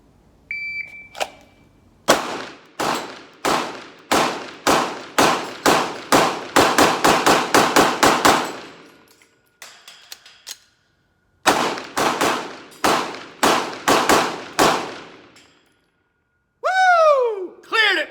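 Glock 17 Gen5 pistol firing a fast 24-round drill at 3 yards on steel targets: rapid sharp cracks with metallic clangs, a pause for a reload, then another quick string, close and loud.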